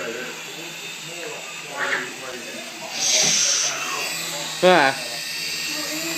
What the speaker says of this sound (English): is now playing with the remote control helicopter